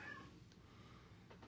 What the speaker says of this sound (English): I know y'all can hear these kittens and cats in my background